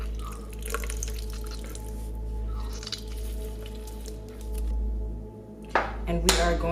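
Wet squishing and dripping as a whole lemon is squeezed into a blender with tahini, with a few sharp little splats near the end over a steady low background hum.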